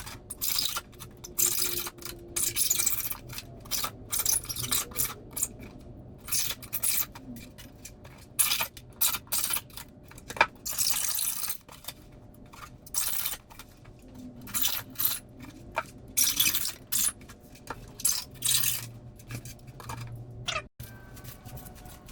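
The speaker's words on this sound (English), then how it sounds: "I'm gonna shave this down with the knife and then experiment" A knife shaves down a foam sink in close, repeated rasping and scraping strokes, each a short, dry, crunchy burst with brief pauses between.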